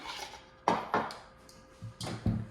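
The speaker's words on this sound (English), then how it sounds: "So we're just gonna whisk this mixture" A whisk stirs a tea tree oil soap mixture in a bowl, making a few sharp, close clinks and taps against the sides with quiet scraping between them.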